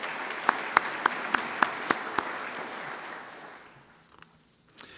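Audience applause at the Tarleton State University Fort Worth grand opening, a dense clapping wash with a few sharp nearby claps standing out, tapering off into near quiet after about three seconds.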